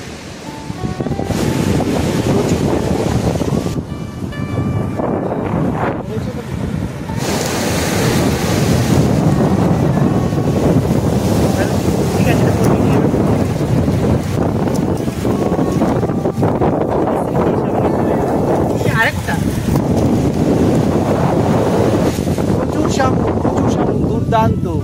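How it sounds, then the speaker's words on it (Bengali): Sea waves roll in at Bagda beach under heavy wind buffeting the microphone, a loud continuous surf roar with rising swells, and voices talking faintly in places. "গাইজ, এখন আমরা সমুদ্র বিচে চলে এসেছি, আর সামনেই সমুদ্র।"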